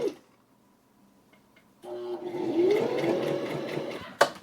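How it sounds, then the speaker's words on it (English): A sewing machine runs a steady stitching burst after a quiet pause, joining two cotton bandana headband pieces right sides together, then stops with a sharp click. "So now I'm going to sew those two pieces right sides together"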